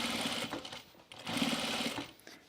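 A sewing machine stitches a cropped jacket facing in short bursts, with close, quick mechanical chattering that starts and stops several times.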